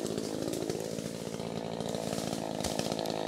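A Fuxtec chainsaw cutting into a walnut tree, its engine running loud and constant with a steady buzzing drone close by and no speech.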